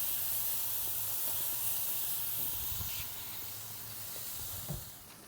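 Steak sizzling on hot brushed, oiled grill grates for surf and turf tacos: a steady broadband hiss throughout, close and fairly loud, with a few faint pops and no talking.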